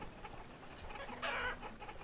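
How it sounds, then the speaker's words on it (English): Chickens cluck in a farming and building strategy video game, several short clucks followed by a louder, brighter squawk midway, close and without talk. "God, the noise those chickens make."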